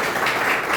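Children at a school gathering in Jhansi clap together in dense, steady applause, close and continuous throughout.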